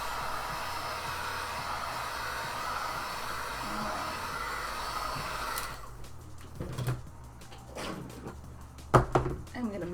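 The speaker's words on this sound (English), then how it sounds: "There goes the Dremel." A Dremel rotary tool shaping small pieces for a costume helmet runs as a steady high whine through the first half, then cuts out into intermittent short bursts and handling clatter.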